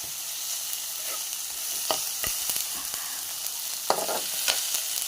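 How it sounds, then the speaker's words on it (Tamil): Quiet steady sizzle of potatoes sautéing in a frying pan for potato kurma, with occasional sharp clicks and scrapes of stirring; no talking. "இது கொஞ்சம் லைட்டாக வதங்கட்டும்."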